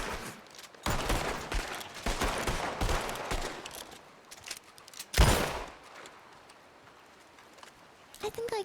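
Rapid bursts of video game gunfire blast at a charging creature, loud clustered volleys with a sharp burst near the end, broken by brief lulls and mixed with game noise.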